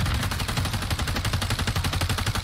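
Automatic weapon fire from Modern Warfare 3 rattles in a rapid, unbroken burst, loud and close, each shot landing at an even rhythm throughout.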